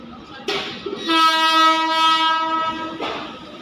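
A train pulls into Beas railway station platform, sounding a long, loud steady horn blast between rumbling arrival noise, with a faint voice beneath.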